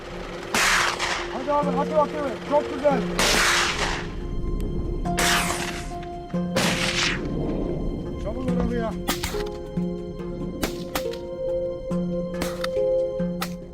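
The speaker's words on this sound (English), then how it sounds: "One precise shot, and the hog drops on the spot, silent." Rifle shots ring out during a wild hog hunt on African farmland. There are several sharp, loud cracks spaced across the stretch, and voices can be heard between and around them.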